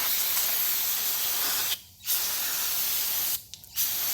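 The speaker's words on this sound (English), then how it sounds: "we'll hit this with a little brake cleaner, see if we can clean this off." Brake cleaner is sprayed from an aerosol can onto a Legends race car motor part, giving a loud, close, continuous hiss in two long bursts separated by short breaks.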